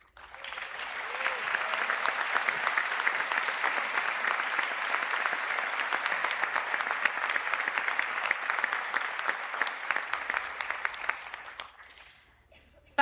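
A conferring ceremony audience applauds construction science and construction management graduates, with dense, steady clapping that swells quickly, holds for about ten seconds and then fades out.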